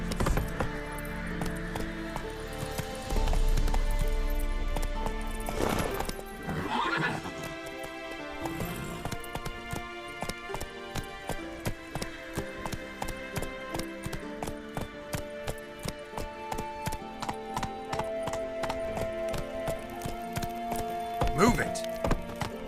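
Roach, the horse in The Witcher 3: Wild Hunt, gallops with steady clip-clop hoofbeats and loud neighs and whinnies over game music, with a voice calling out at times.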